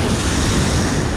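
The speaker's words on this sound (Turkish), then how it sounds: "dalga yoktu, dalga başladı" Sea waves start to break on an Indian shore, a steady close wash of surf with wind rumbling on the microphone throughout, and no voices.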